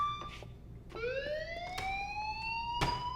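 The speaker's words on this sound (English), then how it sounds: "That's a fire alarm unlike any I've ever heard." Fire alarm in the video game Life Is Strange, a loud electronic tone that sweeps upward in pitch with bright layered harmonics, sounding on its own without speech.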